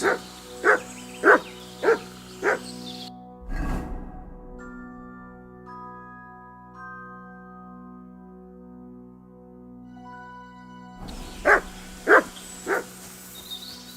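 Mutt, a dog in Kingdom Come Deliverance II, barks nearby in a rhythmic run of four barks, falls quiet over a soft tonal background, then gives three more barks.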